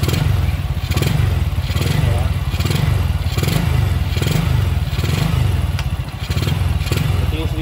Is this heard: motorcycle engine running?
yes